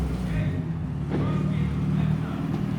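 A 1927 T-Bucket rat rod with a twin-turbo LS V8 racing, its engine a steady loud low drone that swells in a revving surge partway through, with people talking over it.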